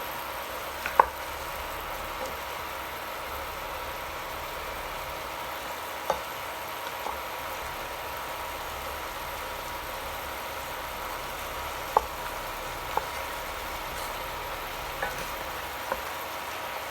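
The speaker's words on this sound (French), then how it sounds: "on laisse cuire la viande" Goat meat fries gently in a pan with a soft, steady sizzle, broken by a few small pops and clicks and an occasional light clatter.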